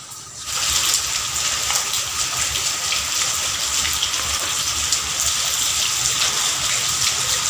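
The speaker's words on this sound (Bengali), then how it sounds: "বৃষ্টি থামলো না।" Steady, dense outdoor rain on a wet monsoon morning, a loud continuous hiss and patter that starts just after the opening and holds without a break, with no voices.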